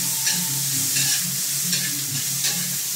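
Garlic and purple onion sauté in a pan for tuna sisig, a continuous bright sizzle with soft stirring scrapes every second or so.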